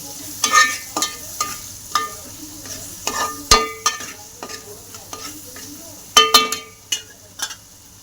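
Spices frying with onion and tomato in a pan, a close, steady sizzle punctuated by repeated sharp clinks and scrapes of a spoon against the metal as the mixture is stirred.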